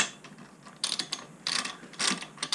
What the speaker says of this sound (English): we'll tighten up the two outsides bolts